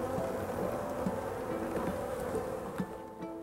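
Steady droning buzz of bees in Colorado, a dense continuous hum with a few individual insects passing closer now and then.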